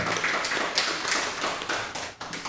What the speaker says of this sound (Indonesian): Tepuk tangan yang meriah untuk Pak Michael